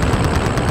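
Machine-gun fire from a video game rattles in a dense, rapid burst over a low engine rumble, loud and close throughout.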